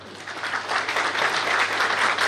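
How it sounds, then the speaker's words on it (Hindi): Audience applause at a Hindu religious gathering, a dense burst of clapping from many hands that swells and holds loud and steady for a couple of seconds, with no voices over it. "हाँ, तालियां ठीक से बजानी चाहिए।"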